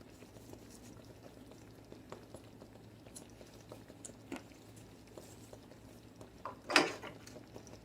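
Chuck roast and drop dumplings simmer in a covered pot on the lowest stove setting, giving a quiet, steady low bubbling with soft patters and one brief louder clink near the end.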